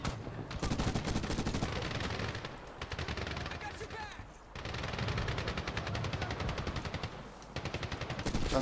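Gunfire in the Medal of Honor video game: sustained machine-gun bursts in loud, rapid rattling runs, broken by a few brief pauses, with talk heard faintly in the mix.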